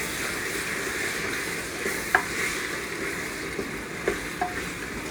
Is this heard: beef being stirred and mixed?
yes